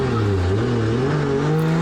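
A race car on a warm-up lap during a state series round, its engine droning loud and close with a steady, slowly rising pitch as it accelerates.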